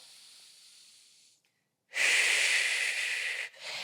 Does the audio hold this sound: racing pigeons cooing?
no